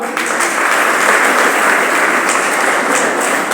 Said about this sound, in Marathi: या मुलासाठी जोरदार टाळ्या